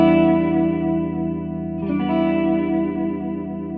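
A 1967 Fender Jazzmaster with 1 meg pots and all controls on full rings out a sustained strummed chord, then a second strum near the middle. The tone is bright and clangy, with a metallic top end.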